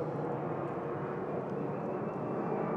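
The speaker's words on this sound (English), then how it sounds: "It's freaking planes out here." Airplanes, mostly FedEx jets near Memphis, fly overhead, a steady broadband engine roar holding constant through the clip with no talk.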